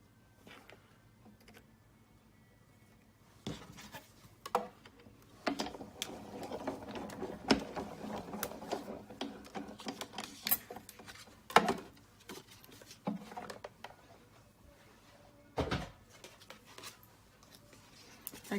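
A sewing machine runs quietly, stitching down the middle of a Christmas cracker. The whirring comes in soft stretches, broken by scattered handling clicks and taps.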